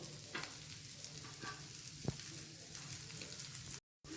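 Bitter gourd slices sizzling in a frying pan, a steady faint crackle and hiss of oil with occasional stirring scrapes and pops, close up, with no one talking.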